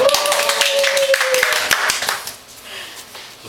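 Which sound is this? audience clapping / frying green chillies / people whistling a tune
audience clapping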